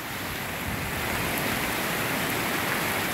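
Very light rain falling in Guajará-Mirim, Rondônia, Brazil: a steady, even wash of fine hiss filling the whole stretch, with no voices.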